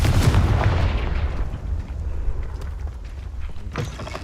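The Confringo explosion spell in Hogwarts Legacy lands as a loud, booming blast at the start. It fades into a rumbling tail with a faint crackle near the end, and there is no talking.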